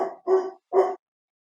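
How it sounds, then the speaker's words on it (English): A dog barks three times in quick succession, short gruff woofs at moderate distance, then silence; no talking. "he's barking now. I can hear him barking in the background."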